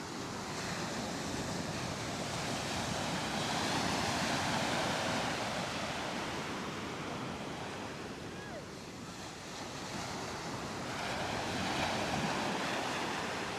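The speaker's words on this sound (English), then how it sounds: "Yes, this is the Atlantic Ocean." Atlantic Ocean surf at Coney Island rolls in steadily, a broad continuous wash of breaking waves with wind noise on the microphone.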